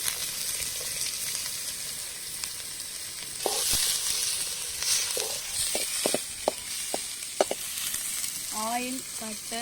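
Onion with cinnamon, cloves and cardamom frying in oil over high heat for hariyali chicken, giving a steady sizzle with scattered clicks and spoon taps, and a brief voice near the end.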